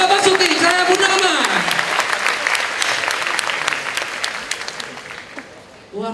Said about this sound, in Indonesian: sekali lagi tepuk tangan untuk Bapak Basuki Cahayapurnama